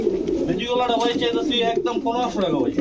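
Pigeons of breeds such as Budapest and Teddy coo in soft, throaty, repeated calls at a crowded pigeon market, close by and mixed with people talking.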